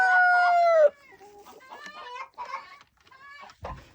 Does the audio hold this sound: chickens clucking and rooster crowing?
yes